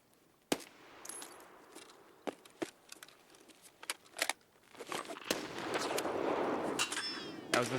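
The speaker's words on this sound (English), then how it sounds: "That was the scavs grenade." A scav's grenade goes off in Escape from Tarkov hardcore play: scattered sharp cracks and gunfire-like bangs, then a loud sustained rumbling blast wash building over the last few seconds, with no talking.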